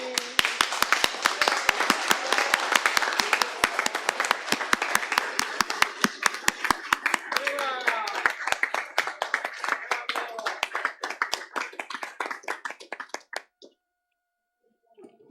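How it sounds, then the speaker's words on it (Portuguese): Audience at a public hearing opposing a quarry expansion clapping: sharp individual claps in a fairly small crowd, dense at first and then thinning to scattered claps before stopping, leaving a brief silence at the end. "E também quero uma salva de palmas para os garotos aí."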